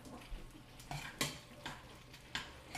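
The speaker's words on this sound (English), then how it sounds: "I like to mix the sauce all around with the noodles" Sauce stirred into noodles in a pan, with soft, regular scraping and stirring strokes about every half second, fairly quiet and close, with no talking.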